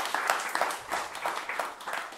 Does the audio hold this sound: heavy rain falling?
no